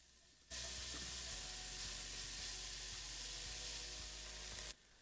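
Onions sautéing in a dry pot without oil for Polish goulash, a sudden broad, steady hiss that runs evenly at close range for about four seconds, with faint stirring clicks, then cuts off abruptly.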